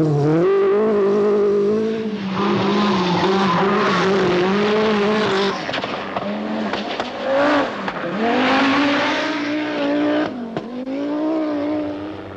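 Peugeot 205 rally cars at the 1985 Rally of New Zealand, engines revving hard and loud with rising and falling pitch as the cars accelerate, shift and slide, the roar continuous throughout.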